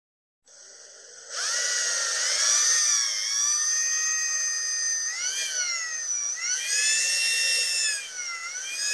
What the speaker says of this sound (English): notice that the drill grabbed and pulled it further in